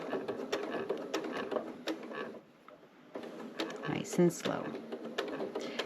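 A sewing machine stitches across a zipper on a small scrap-fabric zipper bag in short bursts of rapid mechanical clatter, pausing briefly midway, with a person talking quietly over it.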